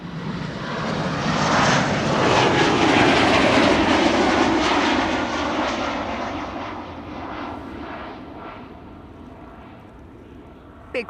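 A KLM Embraer E195-E2 airliner passes at Amsterdam Schiphol Airport on a flight to London. Its broad engine roar builds to a loud peak within a few seconds, then slowly fades over the rest of the clip, with faint talk nearby.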